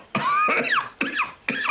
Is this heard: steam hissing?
no